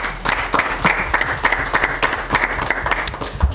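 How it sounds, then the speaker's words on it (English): Dense, steady applause from the audience at a SASI Debate Challenge round after the winners are announced, many hands clapping loudly and continuously throughout, with no voices over it. "A round of applause to everyone."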